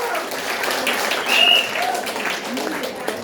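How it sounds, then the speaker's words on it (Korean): A crowd at a gathering applauds in a steady, moderately loud burst of clapping, with some voices and cheers mixed in. "박수!"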